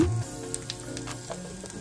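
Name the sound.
panch phoron and asafoetida sizzling in hot oil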